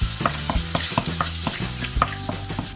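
Chicken pieces sautéing in oil, with a spoon stirring and scraping in a regular rhythm of knocks over a steady sizzle, close and fairly loud.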